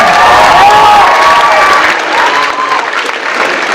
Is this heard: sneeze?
no